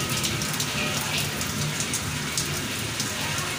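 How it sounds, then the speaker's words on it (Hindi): Rain falls hard during a thunderstorm in Sehwan, a close, steady, dense hiss of downpour; no thunder or voices stand out. "बरसात पड़ रही है।"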